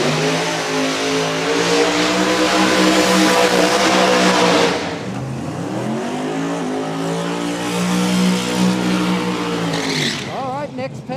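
Drag race cars at a No Prep Kings event at Beech Bend Raceway Park do burnouts: loud, sustained engine roar with revving swells and tire squeal, a brief dip midway, then another long howling pull.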